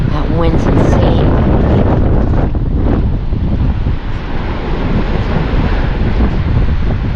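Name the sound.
strong wind at Lido Beach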